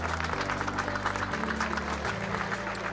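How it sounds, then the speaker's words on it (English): A crowd at a karting race podium ceremony applauds the winner with steady, dense clapping that fills the short stretch, moderately loud with a faint tonal background underneath. "A huge round of applause for the Spaniard, Pedro Hilbrand."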